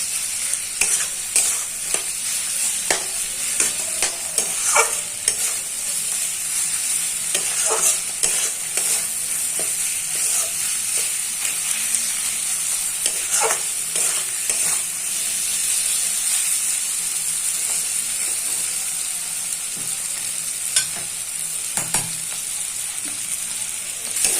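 Mushrooms and tomatoes being stir-fried for mushroom kosha, a close, steady sizzle and hiss punctuated by frequent spatula scrapes and clinks against the pan, with no talking throughout.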